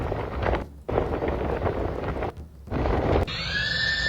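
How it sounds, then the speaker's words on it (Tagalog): Fierce wind from a super typhoon lashing Guam, a loud, steady roar with gusts, two brief drops in force, and a high whistling tone rising near the end. "pumipitong hangin sa Guam dulot ng super bagyong Inday o Bobby"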